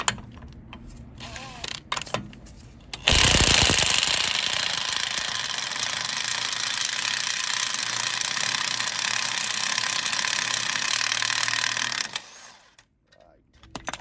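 A pneumatic impact gun hammers away at a nut during clutch replacement on a Vauxhall Corsa, a loud, continuous rattling burst of about nine seconds after a few short clicks, then stopping abruptly.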